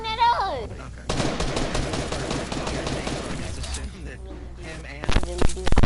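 Rapid automatic gunfire in a video game, a dense rattling burst lasting a few seconds followed by scattered sharper shots, with voices talking over it.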